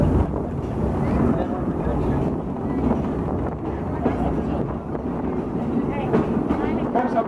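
A steam train ride at Silver Dollar City heard from onboard: continuous rumbling rail and carriage noise with wind buffeting, and voices talking over it.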